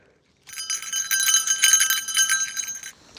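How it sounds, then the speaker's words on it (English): A bear bell carried on a hiking trail in Japan jingles continuously with bright, ringing metallic tinkles, close and fairly loud, beginning after a short silence and stopping abruptly. "I'm going to deploy for the first time in 2026, my bear bell."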